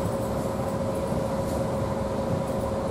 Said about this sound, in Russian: Сейчас сяду на первый попавшийся поезд, который едет на Турин, и домой.